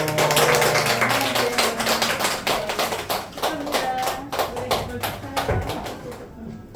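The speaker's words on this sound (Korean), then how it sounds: "박수해 주세요" A congregation applauds at a church first-birthday service, with a steady run of quick hand claps mixed under people talking nearby.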